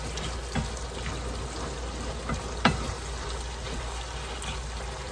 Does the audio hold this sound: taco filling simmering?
yes